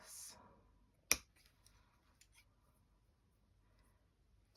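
A single crisp scissor snip cuts off embroidered grapes stitched on fabric. It is one sharp close click after a moment of faint voice, followed by soft handling noises in a quiet room.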